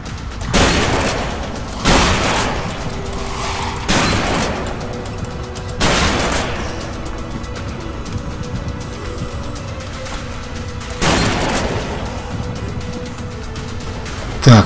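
Shotgun blasts in Deadlight Director's Cut, about six loud, spaced booms roughly every two seconds over a low rumbling background.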